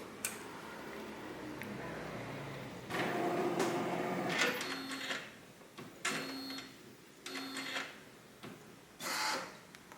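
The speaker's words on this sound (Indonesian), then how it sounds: "baru kita geser printhead ke tengah" The printhead of a DTG garment printer is pushed by hand along its rail toward the centre, giving short sliding rasps and mechanical clicks with pauses between, close and fairly quiet.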